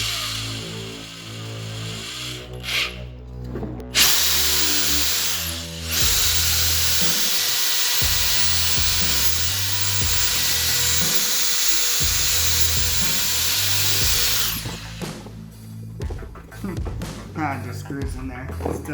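A drill bit bores through plastic on a DIY voltage meter and USB port install, giving a loud, sustained high whine for about ten seconds, with start-and-stop bursts before and after.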